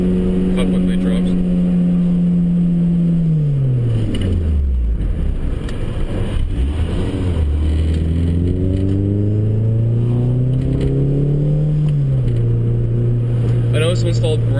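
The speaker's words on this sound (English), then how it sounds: "I'll dump the clutch from a fairly high RPM just so you can get an idea of how quickly it drops" A car engine in second gear revs high, then drops sharply in pitch after the clutch is dumped, bogging low before climbing back up; loud and close, recorded from inside with steady vibration.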